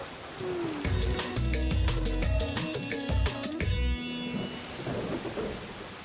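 Rain falls with thunder in an animated scene, heavy rumbling bursts up front giving way to a softer, steady wash of rain.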